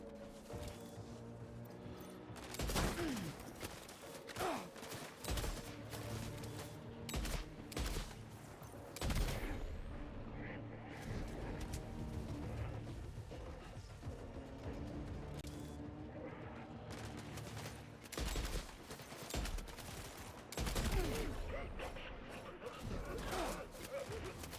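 Sniper rifle fire in the video game Death Stranding 2: On The Beach, with sharp shots breaking out over a dense game soundtrack and battle noise, loud and recurring through the scene.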